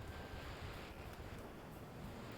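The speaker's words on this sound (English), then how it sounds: "Gotta get away from this waterfall, it's really loud." A waterfall in the video game Vexx gives off a steady, unbroken roaring rush that is quiet overall but dense and constant, with no voices over it.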